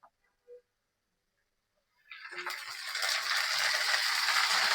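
Hinchi greens (helencha saag) land in hot oil and burst into a loud, steady sizzle of frying after a couple of near-silent seconds.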